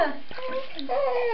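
Water sloshes and splashes in a baby's first bath, soft and close beneath adults speaking Spanish in warm tones, with a faint infant babble.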